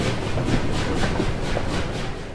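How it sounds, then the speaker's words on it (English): Train pulling out of a station in a children's story, a steady rumbling roll with faint rhythmic clickety-clack, moderately loud and continuous with no voices. "The doors shut. Clank, clank. And the train leaves."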